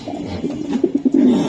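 A racing pigeon gives a low, throaty cooing call, close up and clear, a few soft rolling coos building into a longer sustained one at the end.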